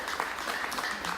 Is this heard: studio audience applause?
yes